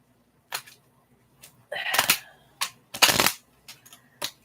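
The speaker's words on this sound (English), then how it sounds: "Not a good shuffle." Tarot cards riffled and shuffled by hand in short irregular bursts of papery flutter and snapping, several quick shuffles separated by brief pauses, close and fairly quiet, no talking.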